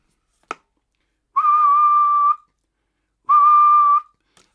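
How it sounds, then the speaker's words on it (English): A person whistles into a CB radio microphone on high power, two steady, loud sustained tones of about a second each, preceded by a sharp click, alone without talk. "Let's go to high power and give it a whistle."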